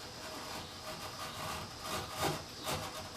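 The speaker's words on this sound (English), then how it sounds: "if you skew the knife and slice it, that's doing pretty good" Faint scraping slices of a knife skewed across end grain while beveling the bottom of a wooden seat, a few soft strokes close by with no talk.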